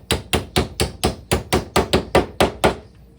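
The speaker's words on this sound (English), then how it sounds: "we just hammer them into the opposite side of that front panel" A hammer drives pieces into the front panel of an assembly, with about a dozen loud, close, evenly spaced blows in a steady rhythm before it falls silent.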